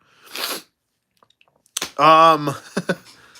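A single sharp sneeze bursts out near the start, followed after a short pause by a person speaking up close.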